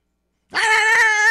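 A voice imitating a deep Great Dane bark, one sustained throaty woof that starts abruptly after a short silence, loud and close.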